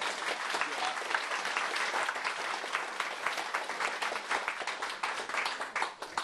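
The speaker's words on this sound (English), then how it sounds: "So if we could have a huge round of applause for all of those people." Warm applause from the audience at a library volunteers' Christmas morning tea, dense and continuous clapping from a gathered crowd, fairly close and steady throughout, with murmured voices mixed in.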